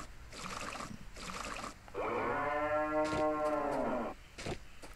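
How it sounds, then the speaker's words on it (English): In-game cow from Story of Seasons: Trio of Towns moos while being milked, a single drawn-out echoey moo lasting about two seconds, set between stretches of background game music and sound effects. "when you milk a cow, its moo sound sounds echoey"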